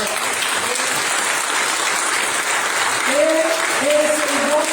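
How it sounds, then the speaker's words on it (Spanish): Church congregation clapping in praise, a loud sustained wash of applause, with voices rising over it in the latter half. "Denle un aplauso al Señor."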